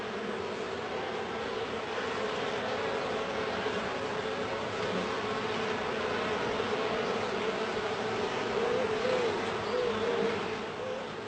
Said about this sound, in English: Bees communicate with each other by means of a dance language.